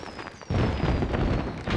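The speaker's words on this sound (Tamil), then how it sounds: "இப்ப அடுத்த வெடி வச்சிருக்கேன் பாரு." A firecracker set off outdoors bursts with a sudden loud boom, followed by a rumbling roar that carries on to the end, with a thin whistle audible above it.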